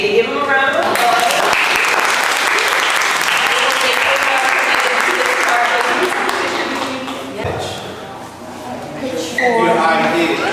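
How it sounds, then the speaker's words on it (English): Audience applause at a community gathering, a sustained, dense burst of clapping that fades briefly near the end, with a speaking voice just before and after. "Give them a round of applause."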